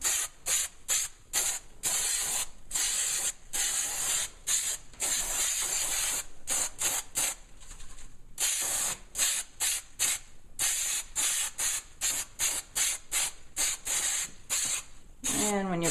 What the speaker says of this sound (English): I'm going to spray inside the bag here.